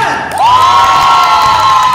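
Loud crowd cheering and whooping at a staff Christmas party, a rising shout swelling into sustained group hollering with clapping mixed in, close and continuous.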